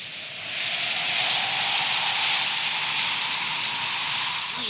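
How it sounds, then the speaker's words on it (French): Steady rain begins falling as a thunderstorm approaches, a broad continuous hiss that swells slightly after the first half-second and holds evenly, with no voices. "Il y a un bel orage qui menace. Ah oui, et il commence déjà à pleuvoir."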